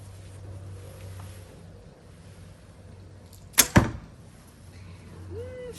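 A single arrow is released from a quiet hybrid Turkish bow of 31 lbs draw weight with a sharp twang and whoosh, followed by a quick thud, against quiet outdoor ambience.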